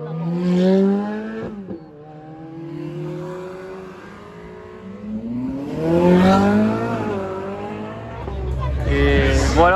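A loud Ferrari V12 sports car revs and passes close by, its engine note rising and falling through several surges over about ten seconds while someone talks over it.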